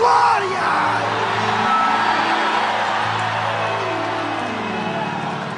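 A church congregation shouts out glory together in a loud, sustained crowd roar of yells and whoops during an evangelical Pentecostal service, filling the room for several seconds before easing slightly.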